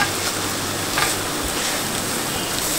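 Paneer cubes sizzle steadily on a tawa as they are turned through masala for dhaba-style tawa paneer, a continuous close frying hiss with faint stirring scrapes and no voices.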